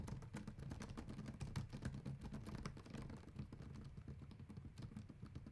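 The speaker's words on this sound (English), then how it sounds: "listen to the sound of the keyboard" Continuous quick key presses on a 2018 MacBook Pro 15 keyboard, soft clattering taps in a busy, even rhythm heard up close.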